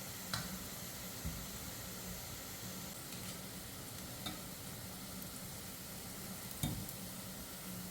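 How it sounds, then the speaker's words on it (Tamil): Boondi drops of gram flour batter frying in hot oil, a steady soft sizzle and bubbling throughout, with a few faint taps of a ladle, no talk. "பாருங்கள், அழகாக பூந்தி பொரிஞ்சு வந்துட்டுருக்கு"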